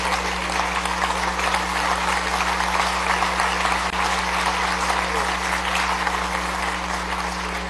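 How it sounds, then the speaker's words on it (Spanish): Lawmakers and guests in Venezuela's National Assembly chamber applaud the military high command with sustained, even clapping for several seconds, backed by a low steady electrical hum from the hall's sound system. "a quien pido nuevamente un aplauso para ellos"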